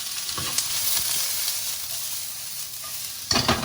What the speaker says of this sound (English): So this is the stir fry, the veg that we're going to serve just over the noodles